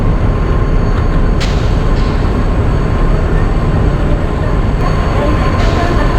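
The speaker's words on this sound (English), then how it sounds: "We are approaching the Vasi Road junction in platform number 7." The 16335 Nagercoil Express rolls toward Vasai Road junction, a loud, steady rumble of wheels and carriages with faint rhythmic clicks over rail joints, heard from on board with no talk.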